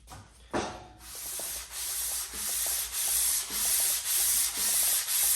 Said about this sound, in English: a little bit on the sandpaper as well. That should help with it cutting.